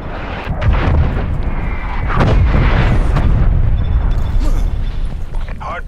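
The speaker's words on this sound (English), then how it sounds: "Hostile artillery targeting active. Artillery inbound." Artillery strikes in the video game Black Ops Cold War, heavy booming explosions and rumbling blasts one after another, loud and close, with a voice speaking over them.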